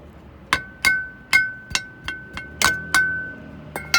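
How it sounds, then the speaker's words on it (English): Nine or ten sharp metallic strikes of a hammer on a chisel during brake and rotor work on a 1992 Chevrolet Caprice land at an irregular pace, each with a brief ringing tone, close and fairly loud, with no speech. "take a hammer and just beat it in there"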